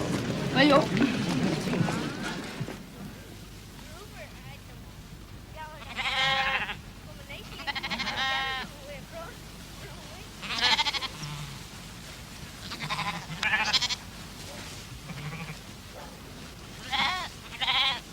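Several sheep being rounded up for shearing bleat at intervals, some near and some farther off, with a voice speaking at the start and outdoor background noise throughout.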